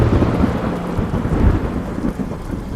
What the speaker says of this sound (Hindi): तेज तूफान के साथ अचानक से जोर से बिजली चमकती है,